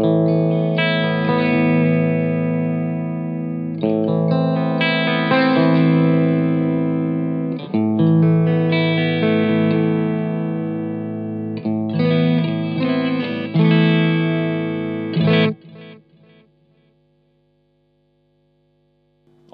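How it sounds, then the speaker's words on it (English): Electric guitar through the digital delay one setting of a Blackstar Silverline amp, with chords and phrases ringing out in repeated echoing strums over about fifteen seconds before decaying to silence, no talk. "So delay one sounds like this."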